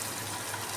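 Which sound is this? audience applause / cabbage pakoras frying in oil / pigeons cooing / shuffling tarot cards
cabbage pakoras frying in oil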